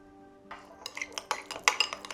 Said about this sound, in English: I do want to put it into a bowl though, so that I can stir it up and it's a little easier to spread